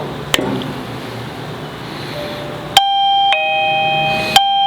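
A doorbell camera's chime, not yet installed, rung and heard from outside: a couple of clear ding-dong electronic tones ringing out over faint outdoor background noise, with a click when the button is pressed.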